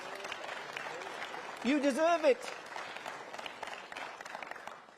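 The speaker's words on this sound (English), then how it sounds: "Give yourselves and our councillors a round of applause." Party members at the Conservative Conference applaud their councillors with a rolling crackle of clapping that runs the whole time. A speaker's voice rises briefly over the ovation midway.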